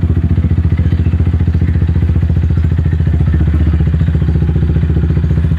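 A motorcycle engine runs with its clutch lever pulled in, giving a loud, steady, rapid low-pitched putter close by with no clear rise in revs, alone without talk.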